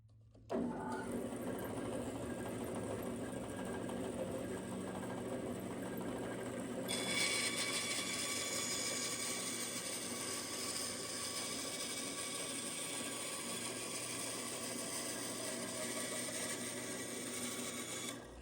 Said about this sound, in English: go take it to the bandsaw and just make a straight cut and get it cut down